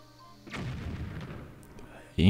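A bomb goes off in The Legend of Zelda: The Wind Waker HD as a short, punchy boom at the very end, following a stretch of muffled rumbling game ambience.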